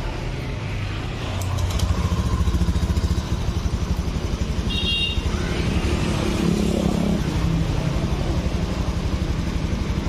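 A 2015–2016 Honda Beat X ESP scooter engine, rebuilt after running hot and sluggish, starts after a second or so of cranking. It then settles into a steady, close, loud idle with a rapid, even pulse.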